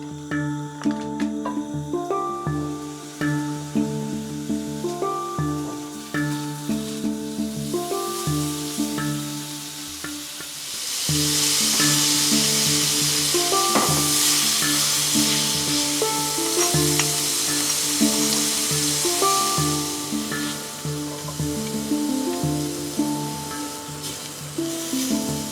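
Meat with dates, leek and garlic fries in butter in a cast iron pan, a steady, dense sizzle with crackling pops, growing louder and brighter partway through as more goes into the pan, with no voices.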